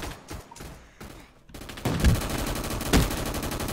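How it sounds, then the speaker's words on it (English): Gunfire rattles through a Roblox shooter match, with bursts of rapid shots and two heavy grenade-like blasts near two and three seconds, loud and continuous with no talking. "We'll throw another grenade over there."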